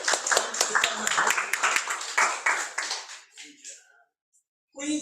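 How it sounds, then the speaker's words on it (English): Audience applause after a lecture introduction, a burst of dense clapping for about three seconds that thins and fades into near silence, then a voice resumes speaking at the end. "let's give her a big hand of applause"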